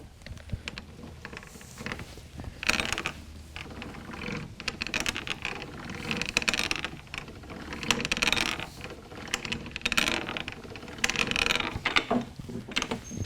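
A frame bender is cranked by hand to bend a metal frame, giving a steady run of ratcheting mechanical clicks and metallic taps, close and fairly loud, with no talking.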